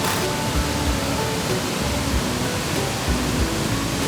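Sambuyeon waterfall in Cheorwon, about 20 m high with water dropping in three bends, gives a dense, unbroken roar of falling water, close and steady with no voices.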